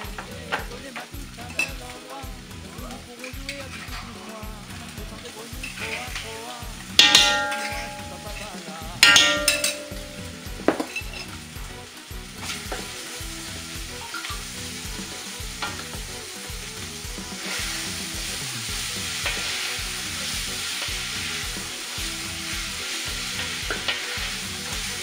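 Onions and a mashed preparation fry in a pan for beef, carrot and potato stew while being stirred, a steady close sizzle with rhythmic spoon scrapes and a couple of sharp clinks against the pan.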